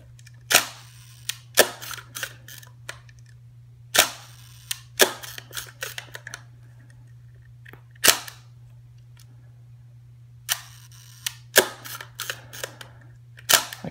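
A Hasselblad 500CM camera fires its shutter at a half-second setting, repeated loud close mechanical clacks, each followed by a brief pause and smaller ticking clicks, over a low steady hum with no voices.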